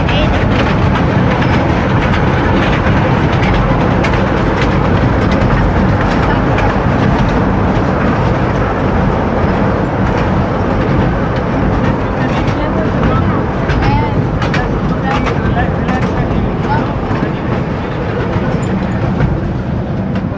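Continuous loud rumble and rattle of a moving train on the tracks, a steady rolling noise with faint rhythmic clacking throughout.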